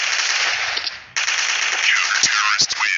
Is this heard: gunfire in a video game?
yes